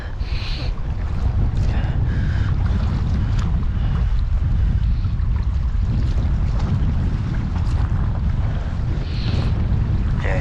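Strong wind roars steadily across a small dinghy on a choppy estuary, buffeting the microphone with a constant dense rumble and hiss, slight surges of spray and chop rising within it, loud and close with no talk.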